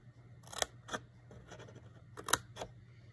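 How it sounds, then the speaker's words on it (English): Scissors make small miter cuts in paper for a handmade keepsake mini journal: several short, crisp snips spaced irregularly, quiet and close, with no talking. "We're going to miter cut slightly."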